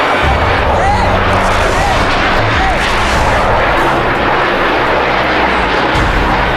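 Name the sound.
crashing fighter jet plane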